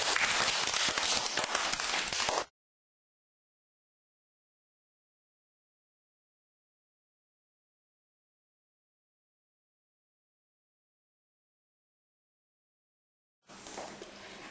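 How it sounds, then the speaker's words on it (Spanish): Loud classroom applause and clapping for a couple of seconds, then a long silence, with a brief burst of noise returning at the very end. "Un aplauso, muy bien."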